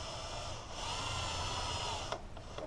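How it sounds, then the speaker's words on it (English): A power drill bores through the firewall of a 1969 Camaro, a steady grinding whine held for about two seconds before it stops, followed by a few faint clicks. "So I want to go fairly slow, because if I drill too far, I can damage something on the other side of the firewall."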